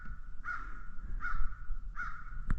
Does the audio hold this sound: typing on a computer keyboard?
no